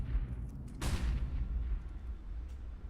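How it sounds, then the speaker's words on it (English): HE grenades detonating near a main entrance in a Counter-Strike professional match: a heavy boom bursts out of a steady rumble and fades into a low, rolling tail. "Follow those HE grenades. There they go, 3 of them in towards main entrance."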